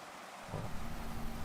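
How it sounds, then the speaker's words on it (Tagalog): Steady rain falls on a rainy night, a dense hiss that thickens into a louder, fuller downpour after a brief quieter start. "bali maulan na gabi"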